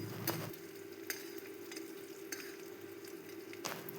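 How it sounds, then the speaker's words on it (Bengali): Coriander seeds, garlic and plenty of peanuts fry in a pan, making a soft continuous sizzle with occasional scraping stirs and light clicks, close by and without speech. "এবার বেশ ভালো করে ভেজে নেব যতক্ষণ না এর থেকে একটা সুন্দর গন্ধ উঠে আসছে।"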